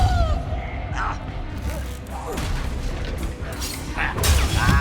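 Confringo fire spell blasts in the Hogwarts Legacy video game, heavy booms and crashes mixed with combat effects over a few seconds, partly under a voice calling out spell names.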